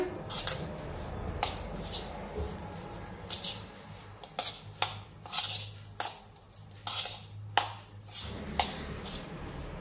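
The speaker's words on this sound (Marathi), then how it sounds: "व्यवस्थित मिक्स करून घेऊया।" A spoon stirs cardamom powder into a crushed peanut and sesame ladoo mixture in a bowl, giving a run of close metallic clinks and scrapes in an uneven rhythm, with no talking.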